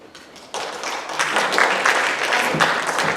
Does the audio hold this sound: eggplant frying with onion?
no